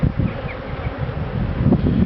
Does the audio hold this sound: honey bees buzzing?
yes